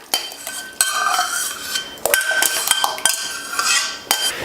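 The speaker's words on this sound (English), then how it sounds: "I'm gonna add the sauce in here, all of it" Mole sauce poured and scraped into a metal pot, with spoon and pot clanks and stirring scrapes in irregular bursts, loud and close, with no talking.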